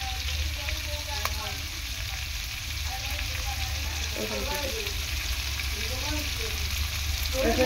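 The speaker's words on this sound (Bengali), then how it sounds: "রসুন কুচিটা দিয়ে এই যে হালকা করে একটু ভেজে নেব।" Chopped garlic and shrimp frying in a pan, a loud, steady close sizzle running throughout with light stirring scrapes in the latter half, no speech.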